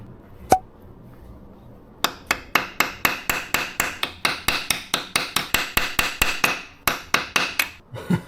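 A hammer strikes a bolt on a bike in a steady series of sharp metallic blows, about twenty-five in quick rhythm after a single early tap, close and loud with no talking.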